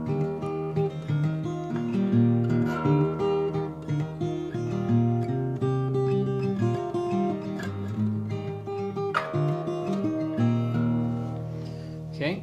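Fingerstyle acoustic guitar plays the verse of a song, blending intro hammer-ons with the melody over a steady picked bass line, close and continuous for several bars.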